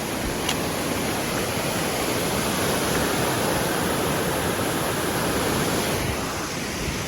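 Water rushing down a snowmelt stream on a winter mountain trail in the Franconia Ridge area, a steady, close, full-bodied roar of falling water that holds unbroken and loud with no voices over it.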